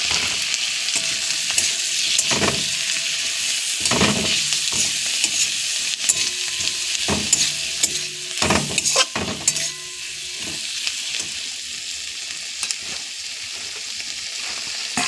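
Washed dried fish for shidol chutney frying and being stirred in a pan with chilies, a continuous loud sizzle broken by repeated sharp scrapes and knocks of the utensil against the pan.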